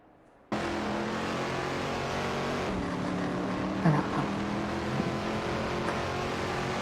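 Several race car engines in a racing video game, including a Ferrari 275 GTBC and a Shelby GT 350, drone steadily and loudly after a sudden start, with a brief surge of revving near the middle and no talk.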